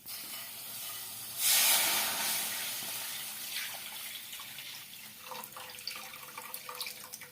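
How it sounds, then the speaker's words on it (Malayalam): Milk poured into a pan while making semiya fruit custard, a loud splashing pour that bursts in, then fades to a soft trickling hiss with small drips. "അതിലേക്ക് ഇനി നമുക്ക് ഈ പാത്രത്തിലേക്ക് ഈ പാൽ ഒഴിച്ചു കൊടുക്കാം."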